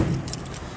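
A single key for a 2005 Nissan Bluebird Sylphy jingles briefly and close by, a short bright metallic rattle over a low steady background hum.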